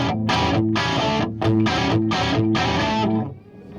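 Crunchy, distorted electric guitar chords strummed in a steady rhythmic pattern through an overdriven ENGL Retro Tube amp, loud and close, fading at the end.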